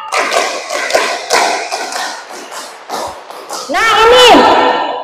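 A room of teachers clapping in a counted rhythm game at a primary school curriculum workshop, a quick run of sharp claps followed by a held burst of voices, close and loud with speech around it.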